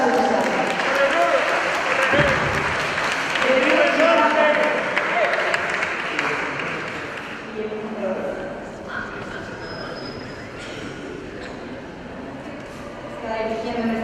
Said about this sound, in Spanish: Fuerte la aplauso.